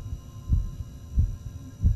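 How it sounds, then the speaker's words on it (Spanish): Heartbeat effect in the horror video game Inside Backrooms: three heavy, muffled low thumps at a slow, steady pace, each a quick double beat, over a faint droning hum. "escucho un latido por ahí,"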